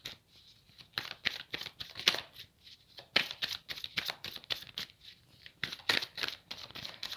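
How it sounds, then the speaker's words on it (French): Tarot cards being shuffled and drawn from the deck, a series of soft, close riffling and flicking bursts in an irregular rhythm, quiet and without speech. "une dernière petite carte pour ce tirage général"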